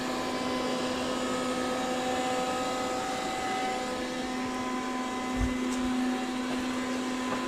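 A Dreame L10S mopping robot vacuum runs with a steady, even whirring hum and a constant tonal whine, close by and unbroken, with one faint bump partway through and no talking.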